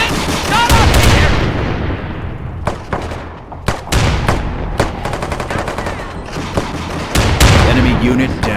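Gunfire in the Company of Heroes WW3 mod game: loud rapid bursts and single cracks fire in irregular volleys, with heavier booms mixed in and a voice shouting under the fire.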